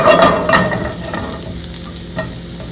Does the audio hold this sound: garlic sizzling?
yes